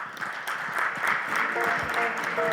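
Conference audience applauding in a hall, a steady wash of clapping from many hands that swells slightly, with a voice speaking over it near the end.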